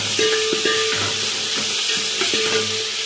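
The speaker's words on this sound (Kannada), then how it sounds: "ಈರುಳ್ಳಿ ಫ್ರೈ ಆಗ್ತಿದೆ. ಇವಾಗ ಶುಂಠಿ ಬೆಳ್ಳುಳ್ಳಿ ಪೇಸ್ಟ್ ಹಾಕ್ಬಿಡಿ." Onion fries with ginger-garlic paste for sambar rice, a loud steady sizzle with repeated ringing scrapes and knocks of a metal ladle stirring in the pan.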